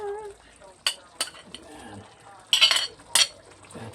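Carrots are tipped into a pot of beef rib soup, giving a few sharp metallic clinks and knocks of a utensil on the pot, then a louder burst of clattering and stirring.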